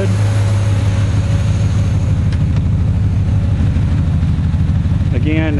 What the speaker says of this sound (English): Again, you can kind of hear the fan running.